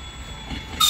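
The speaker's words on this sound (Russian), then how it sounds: "Елисей, что за поезд едет?" A train rumbles by close at a level crossing, a heavy steady roar with a thin metallic squeal that swells louder at the end.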